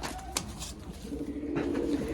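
Pigeons in a loft give low, wavering coos that swell in the second half, heard nearby after a couple of brief knocks.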